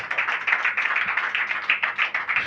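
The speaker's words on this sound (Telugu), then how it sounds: "చప్పట్లు కొట్టండి" Audience clapping at a Christian sermon, a steady dense burst of many hands applauding together, fairly loud and continuous throughout with no talk over it.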